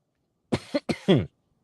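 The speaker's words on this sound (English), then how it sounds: "As I try to work through the cough." A short burst of coughing, three or four quick rough hacks in close succession, up close and otherwise silent.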